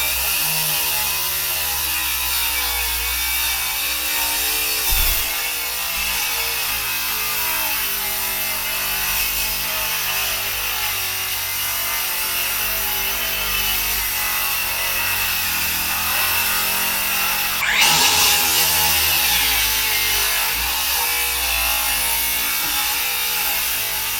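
A power saw cuts through termite-damaged hardwood flooring, giving a loud, continuous grinding whine that runs steadily throughout with one brief dip and a sharp knock midway.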